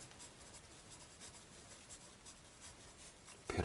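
Pen or pencil writing across paper in a steady scratchy run of strokes, close and quiet, with no voices, ending in a brief louder scrape.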